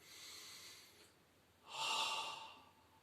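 Breathing in and out during a Pilates exercise, close and quiet: a soft, airy inhale first, then a pause and a stronger, breathier exhale, with no talking.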